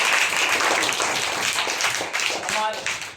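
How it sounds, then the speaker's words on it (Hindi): Classroom students clap together for a classmate who answered correctly, a close, uneven patter of hands that thins out over a few seconds while a teacher's voice carries over it. "ताली बजाइए इनके लिए।"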